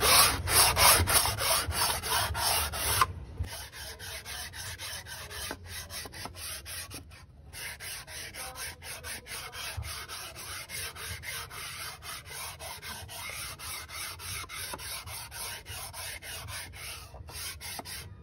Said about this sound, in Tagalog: natapos nga natin niliha